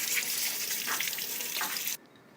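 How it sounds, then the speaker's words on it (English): Water runs steadily from a kitchen tap with faint rubbing and splashing as potatoes are scrubbed, then cuts off abruptly near the end. "So scrub your potatoes very well."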